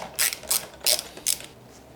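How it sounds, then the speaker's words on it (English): A ratchet undoes headlight bolts on a Honda CRF250L/CRF300L motorcycle: four crisp, evenly spaced bursts of close ratcheting clicks, then a faint fifth. "So we'll start by undoing these 4 bolts."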